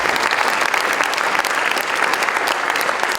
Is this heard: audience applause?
yes